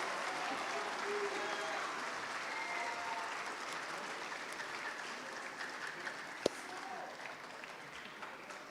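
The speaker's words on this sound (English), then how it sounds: "let's give another round of applause for our class of 2025" An audience at a FIRST Robotics team induction ceremony claps steadily, a broad sustained wash of applause with a faint murmur of voices beneath and one sharp knock partway through.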